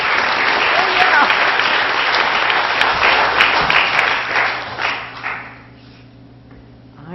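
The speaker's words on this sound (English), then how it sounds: "so you just go ahead and keep applauding when it's time to do that" A spelling bee audience breaks into loud, dense applause with cheering that swells, then thins and fades out near the end.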